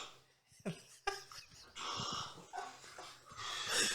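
Heavy, snorting breaths and wheezy pants come in uneven bursts close by, with short pauses between gusts of air.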